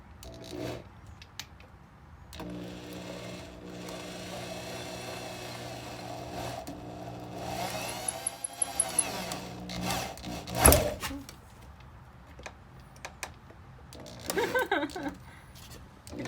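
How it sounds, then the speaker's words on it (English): A power drill whirs steadily for several seconds, drilling a pilot hole through a van's body, its pitch shifting as it bites through, followed by clanks and scraping of tools. "we gotta drill the pilot hole through the van too"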